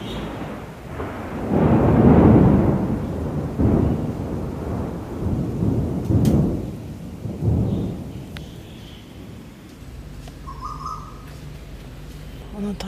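Deep rumbling thunder rolls in several swells over steady rain in Kuala Lumpur, fading toward the end as a faint bird call appears.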